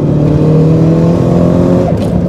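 A 440bhp Alfa Romeo GTV engine pulls hard under acceleration, a loud close drone whose pitch climbs steadily before a quick shift near the end, with no talk.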